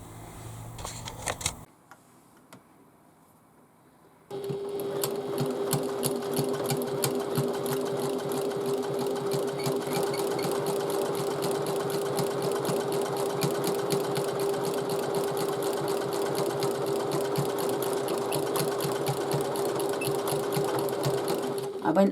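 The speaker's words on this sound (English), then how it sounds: "And we're going to stitch up the sides and all the way to the top," A sewing machine topstitches the sides of a fabric tote bag, running in a long, steady, close whirring burst after a brief start and a short pause, with rapid even needle clatter throughout.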